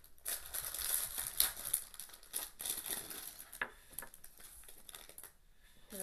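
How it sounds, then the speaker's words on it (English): A plastic package crinkles and rustles up close while a rubber Mockingjay bracelet is unwrapped by hand, with irregular bursts of crackling over about six seconds and no talking. "Sorry for the crinkling."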